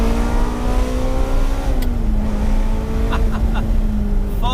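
Ferrari with stock exhaust revving above 5000 RPM, a loud, close, sustained engine howl with a steady pitch that dips slightly partway through, over constant rumbling noise.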